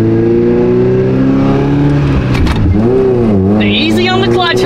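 A manual Mazda Miata engine revs and accelerates in the cabin, loud and close, the pitch climbing, dipping and climbing again with a harsh rising whine near the end, while people talk over it.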